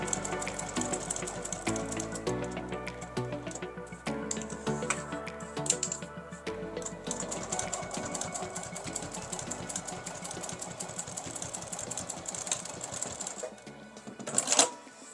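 A sewing machine runs stitches around the edge of a quilted fabric glasses case, a steady close mechanical whir with rhythmic clicking and brief pauses.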